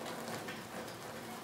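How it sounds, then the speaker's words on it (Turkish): Steady, faint rain falls continuously in a rural mountain village setting, a soft even hiss with no distinct drops or voices standing out. "Burası hemen hemen her gün yağmur var arkadaşlar."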